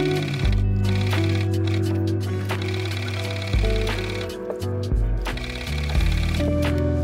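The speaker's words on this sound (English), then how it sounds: "It did take me quite a bit just to perfectly sew and stitch where the lace was" A sewing machine stitching lace over the hem of a homemade wedding dress, running in close, loud bursts of rapid mechanical whirring that stop and restart several times, with no talk.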